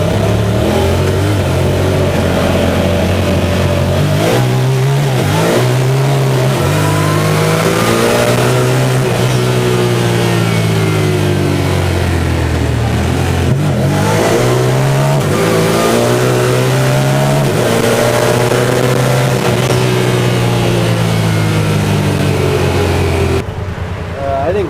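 Honda Talon turbo side-by-side with a Jackson Racing turbo revving hard on a ride, the loud engine note rising and falling through repeated accelerations, close and constant, with voices faintly mixed in.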